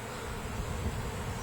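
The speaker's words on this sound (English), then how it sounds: "These are a whole different swarm of bees." Honey bees from a swarm buzz in a dense, continuous drone around a swarm trap outdoors, a steady murmur of many wings with no voices.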